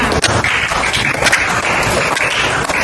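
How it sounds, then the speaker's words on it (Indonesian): A ninth-grade science class applauds a student group, many hands clapping in a dense continuous patter that fills the room for a few seconds. "beri aplaus juga untuk kelompok 6"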